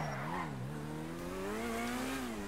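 Engine of the Campagna T-Rex trike in GTA 5 revving, a droning motor tone that dips and then climbs steadily in pitch as it accelerates, moderately loud and without talk.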